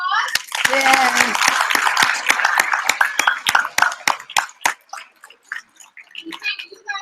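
Audience applause and cheering at an author event with Gordon Korman in Manchester, a dense burst of clapping from a crowd of children that gradually thins out into scattered claps and voices.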